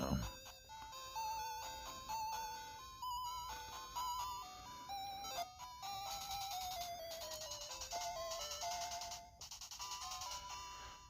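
Bright, beeping chiptune melody from a Legend of Zelda Game & Watch handheld, with stepping square-wave tones, loud and continuous, playing alone without talk.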